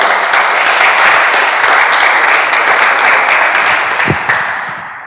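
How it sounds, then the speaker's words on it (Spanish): Audience applause fills a book presentation, with dense, steady clapping that runs loud for about four seconds before gradually thinning and fading toward the end, and no talk over it. "Un fuerte aplauso al maestro Baudelio Lara."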